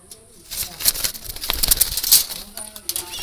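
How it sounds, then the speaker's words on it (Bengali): A male Jalali wild pigeon coos and flaps its wings up close, with brief fluttering bursts and soft calls mixed with someone talking. "এটা একটা নর কবুতর।"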